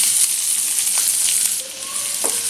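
Onion sautéing in a pan with mustard seeds and curry leaves on medium heat for a raw banana sabzi, giving a steady high sizzle with a few soft spoon scrapes and clicks, no talking.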